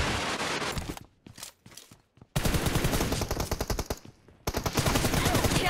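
Automatic gunfire in PUBG Mobile, loud rapid bursts of rattling shots separated by short quiet gaps, close and punchy, with a few softer footsteps-like sounds between bursts.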